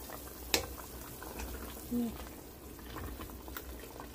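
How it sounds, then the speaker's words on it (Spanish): Broth or soup boiling in a pot on a home kitchen stove, a steady soft bubbling hiss throughout with one brief sharp knock and a short tonal squeak partway. "ya el caldo o la sopita, vean, ya está hirviendo"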